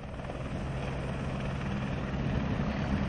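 A helicopter of an emergency medical service in Uttarakhand, its rotor and engine roar loud, close and continuous throughout, with no talk.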